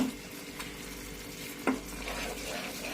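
Gram flour is stirred steadily in a pan on low heat for besan laddu, a soft, even dry sizzle with faint scraping and one sharp utensil tap.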